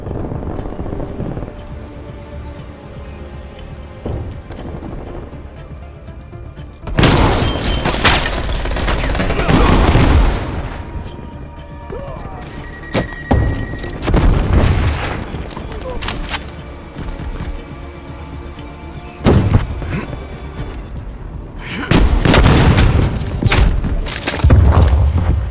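Video game bombs go off in heavy booming bursts, several clustered blasts arriving in waves between quieter stretches, each set loud and close with crackling debris.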